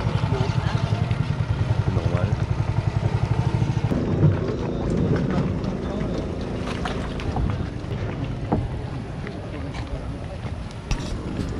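Boat crossing the Amazon river toward Colombia, a steady engine drone with water and wind noise running throughout, with voices talking over it.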